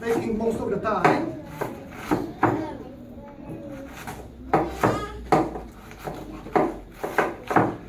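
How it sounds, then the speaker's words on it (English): A knife chopping cabbage for sauerkraut in quick irregular strokes, sharp thuds on a board in bursts, with a person talking softly between cuts. "I guess that chopping bit is taking most of the time."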